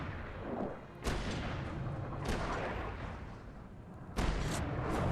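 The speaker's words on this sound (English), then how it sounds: "Why is he shooting at me?" An enemy fires a gun in the Alan Wake video game, three loud, booming shots spaced about a second apart over a dense rumbling backdrop.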